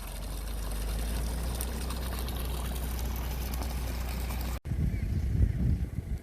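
Water pouring and trickling steadily through a solar-powered pond pump system in strong sunlight, a continuous mid-level rush that cuts off abruptly near the end, followed by quieter rumbling outdoor noise.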